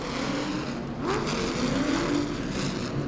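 Late model race cars roaring around Langley Speedway, a continuous loud engine drone with a rising, shifting pitch as cars pass at speed.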